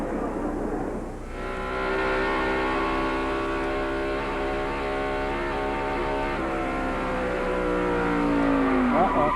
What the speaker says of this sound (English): Let's have a look from in-car, from Jeff Gordon's car. Watch and listen.